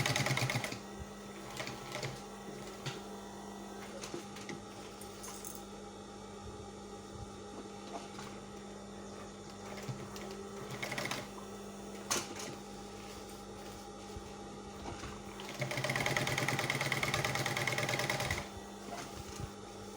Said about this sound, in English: Then after that, we'll now start sewing it.